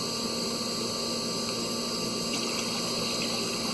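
Water flushed through the heater core of a 2006 Pontiac Grand Prix with a no-heat fault, a steady rushing hiss of flowing liquid with a constant pump-like whine, continuous and close.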